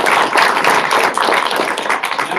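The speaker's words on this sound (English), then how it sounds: "Let's give them another round of applause." Audience at a university invasive-species seminar applauding three panelists, a loud, close burst of dense clapping that swells and dips slightly and runs for a couple of seconds without talk.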